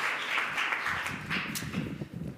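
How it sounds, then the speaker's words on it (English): Scattered applause from an audience at a student waste-reduction challenge event, clapping for a team's sustainable packaging project; a soft, steady patter that lingers and thins out toward the end. "Let's give a big applause to Sustainable Package Service for grocery stores."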